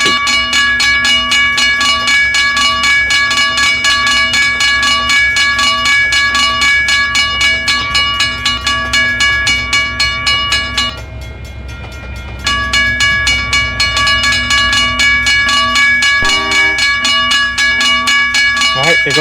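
A train in Trainz rumbles steadily past a level crossing with continuous rolling clatter and a bright ringing tone, a brief dip midway, then the loud passage resumes.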